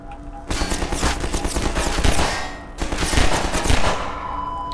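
Rapid automatic gunfire in Half-Life 2 comes as two dense sustained bursts separated by a brief pause, loud and close.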